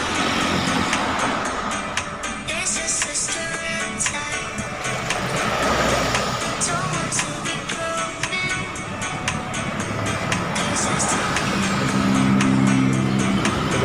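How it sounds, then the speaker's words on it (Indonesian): Steady road traffic crossing the Mahakam Bridge, cars and trucks rumbling past in a continuous wash of engine and tyre noise, with brief voice murmurs in the background. "Coba lihat kendaraan yang melintas."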